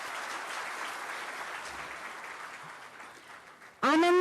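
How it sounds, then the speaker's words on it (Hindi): Audience applause at a government ceremony handing out appointment letters, a steady wash of clapping that thins out before a voice cuts in loudly at the end. "ये चयन पत्र आपको सौंपते हुए तालियां जोरदार होनी चाहिए।"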